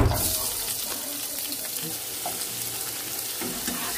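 Onion and chilli frying in the small amount of oil released by cooking fish in a home kitchen, a steady close sizzle with light stirring and a hint of running water, no talking.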